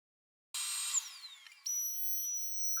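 A router fitted with a 1/2 inch round-over bit shapes the wooden edge of a ported underseat subwoofer box, giving a loud high-pitched whine that starts abruptly, dips briefly, then holds steady alone.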